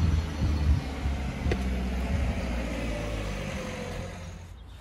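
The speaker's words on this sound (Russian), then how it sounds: "Это машина уже который раз мимо меня проезжает." A Mini Cooper passing on a street, its engine and tyre noise loud at first and then fading steadily as the car moves away, with no talk.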